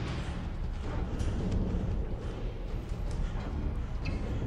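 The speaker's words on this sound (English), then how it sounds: "Why are you running towards the explosions?" Dense, rumbling video game explosions in Touch Light 2 roll continuously with a crackling, noisy texture, like a constant barrage, moderately loud with no clear pauses.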